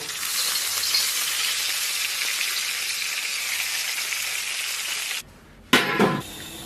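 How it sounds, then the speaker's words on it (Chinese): Hot oil poured over minced garlic, chili powder and sesame seeds for spicy beef noodles, a steady loud sizzle and crackle that cuts off near the end, followed by a brief sharp burst of sizzling. "然后来点这个蒜泥、辣椒粉， 再来上一点点做的小芝麻，再给它浇上热油"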